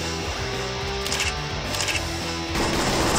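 Gunfire in the Dan The Man platformer game, rapid repeated shots in a steady burst with brief crashing hits, loud and up close, with no voices.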